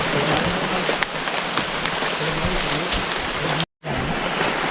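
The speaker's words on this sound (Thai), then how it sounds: "ฝนตกแบบ ไม่ทันตั้งตัว" Heavy rain pouring down suddenly in a forest during a storm, a loud, dense, continuous hiss close by that cuts out briefly near the end before resuming.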